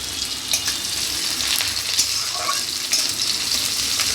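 Two dry red chillies, five-spice seeds and a little onion sizzle loudly in hot oil as they are stirred, a continuous close frying hiss with light scrapes and no talking.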